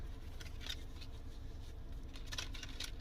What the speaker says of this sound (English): Alright, so I'm going to shuffle the tarot.